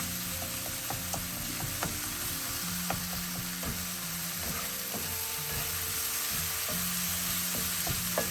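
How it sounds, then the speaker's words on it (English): Ginger garlic masala with onions sizzles and crackles in hot oil for a fish curry, a steady bright hiss broken by scraping stirs and small pops, close and continuous without speech. "when you fry this masala"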